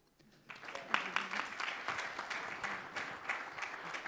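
Applause from an audience at an investment forum panel, starting after a brief quiet moment and then building into steady, dense clapping that holds at a moderate level without any voices.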